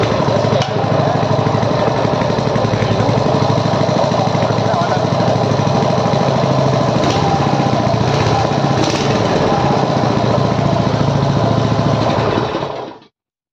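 A 6.5 HP small engine fires up almost at once and runs loud and steady with a rapid, buzzing drone close by for about twelve seconds before cutting off.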